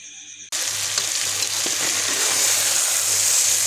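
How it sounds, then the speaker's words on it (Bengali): Vegetables cooking with mustard paste, a loud steady sizzle that starts abruptly, with faint scraping of stirring underneath. "দেখুন আমি ঠিক এরকমভাবে সরিষা বাটা এতগুলো দিয়ে দেবো। এবার আমি ভালো করে নেড়ে দেব।"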